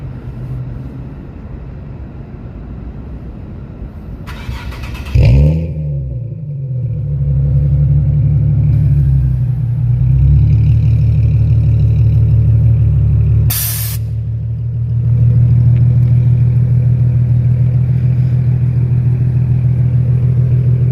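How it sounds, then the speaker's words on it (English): A Nissan 370Z cranks and fires up around five seconds in, settling into a loud, steady idle with a deep hum. A sharp burst cuts in partway through before the engine drones on close by. "I'll go ahead and turn the car on"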